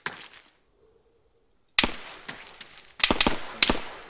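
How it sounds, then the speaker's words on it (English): Gunfire in the video game ARMA 3 during an SAS mission: a short burst opens, then silence, followed by sharp close shots and a rapid cluster of cracking reports with reverberant tails. "Gunfire."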